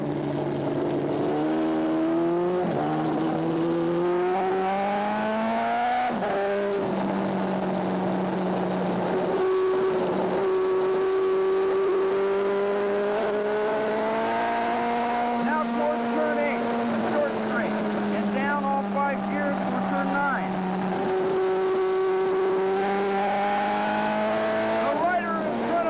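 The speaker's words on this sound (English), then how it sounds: "Now I'm accelerating hard up the back hill." A 1980s AMA superbike racing motorcycle accelerating hard uphill on a race circuit, its engine note rising and falling through gear changes, loud and continuous with someone narrating over it.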